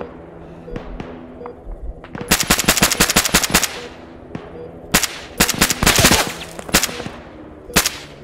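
Bursts of rapid automatic gunfire and single shots crack out in an ArmA 3 battle, several loud clusters with pauses between them, plus some radio chatter in the background.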